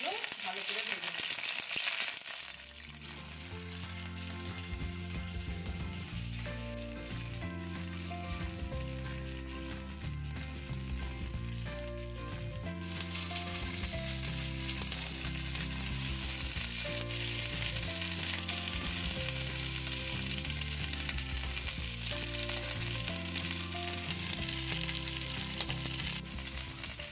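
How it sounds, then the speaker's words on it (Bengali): Cut cauliflower florets fry in a pan with a continuous crackling sizzle, heard steadily under melodic background music. "এবার আমি কেটে রাখা ফুলকপিগুলো ভালো করে ভেজে নেব।"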